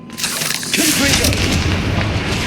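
Confringo fire spell explosion in Hogwarts Legacy, a loud booming blast with a rumbling tail that swells and lingers, a voice calling out over it.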